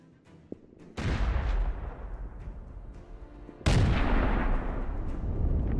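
Two heavy blasts as FPV kamikaze drones strike Russian combat vehicles parked side by side, each a sudden loud boom followed by a long rumbling decay, the second slightly louder, with a faint click beforehand and no talk.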